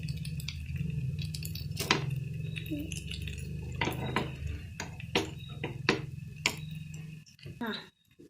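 A utensil scrapes and clinks against a pan while sweet gunta ponganalu cooked in ghee are gently turned, a steady run of light metallic taps and knocks with a voice talking over it.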